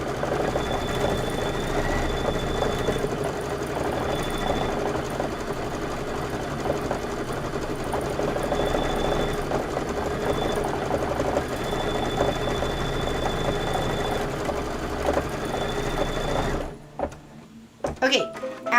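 An embroidery machine runs quilting stitches in a steady mechanical rhythm, with a faint high whine coming and going over the constant clatter, then it stops and a few handling knocks follow. A voice talks over it.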